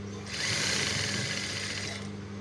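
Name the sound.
sewing machine stitching cufflinks on fabric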